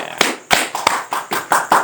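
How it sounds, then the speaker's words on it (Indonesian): A small audience claps in a talk session, leaving a few sparse, sharp hand claps roughly every quarter second, close and fairly loud, with no crowd roar. "Oke, kita berikan aplaus dulu."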